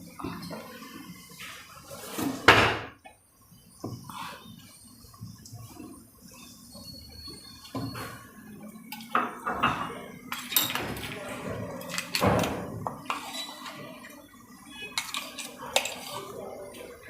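Flour batter for Gujarati patra na muthiya being mixed by hand in a bowl: irregular scraping, stirring and clinking of a utensil against the bowl, moderately close, with some background noise.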